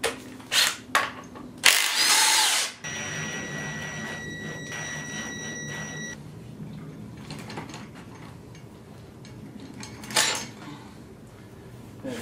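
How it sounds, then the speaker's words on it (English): Metal tools clink and rattle while the front axle bolt is taken out of an XSR700 motorcycle. A short loud power-tool whir is followed by ringing metallic tones and scattered clanks and taps, all close and intermittent. "Now that that's loose, we can remove this axle bolt."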